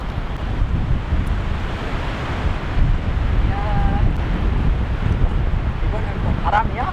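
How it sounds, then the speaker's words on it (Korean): Strong wind buffets the microphone during winter car camping in an open field during a gale and heavy snowfall, a constant roaring rumble throughout with brief voices faintly audible beneath it. "이번엔 또 바람이야?"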